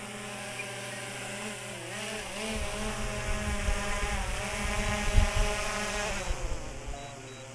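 A camera drone hovers close by in a forest, its propellers buzzing with a steady, wavering whine that rises and dips slightly as it is brought in for a hand landing; no speech is heard.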